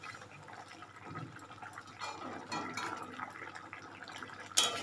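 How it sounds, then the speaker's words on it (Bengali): Tilapia fish curry broth boils in a pot with soft, steady bubbling and gurgling, low and close with a brief sharper splash near the end. "বন্ধুরা এই দেখো মাছের ঝোলটা ফুটে গেছে, আর এখন আমি এর মধ্যে দিয়ে দেবো এই যে আমার মাছ।"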